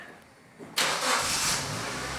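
A Suzuki Jimny engine cranks briefly and then catches, settling into a steady, loud idle close by.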